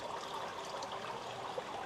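Water flowing steadily over the natural stone edge of a swimming pool, a faint continuous trickling wash with no talk.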